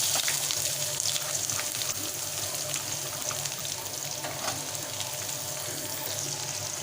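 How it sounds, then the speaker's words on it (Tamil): Finely chopped large onions fry in a pan with a constant soft sizzle and crackle, steady and close with no talking. "இப்போ பொடிசாக கட் பண்ண பெரிய வெங்காயம் சேர்க்குறேன்."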